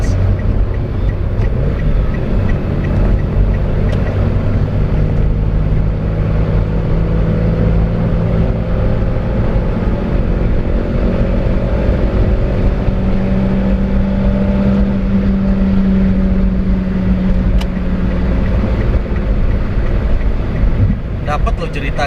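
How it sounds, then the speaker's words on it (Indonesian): Heard from inside the cabin of a 2018 Toyota Calya E manual on the Cipularang toll road, the engine hums smoothly and continuously beneath road and wind noise while someone talks throughout. "Soalnya ini suara mesinnya lumayan halus juga menurut gua."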